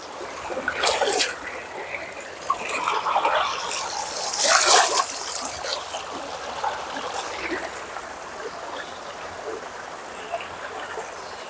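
River water running over rocks near Gua Tempurung in Malaysia, a steady close babble broken by a few brighter splashes and spatters.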